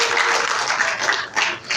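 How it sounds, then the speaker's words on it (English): A church congregation claps their hands during a sermon, a short burst of close, fairly loud clapping that dips briefly before picking back up. "clap your hands if they're helping you"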